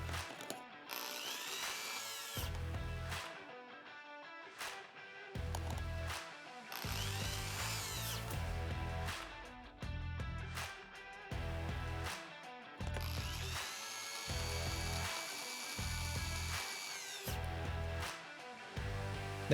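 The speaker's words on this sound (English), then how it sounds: "Reinstall the 3 Phillips screws." Three Phillips screws are driven back into the dash trim panel of a Toyota with a small power driver, making repeated whirring bursts separated by short pauses, close and fairly quiet, with no talk.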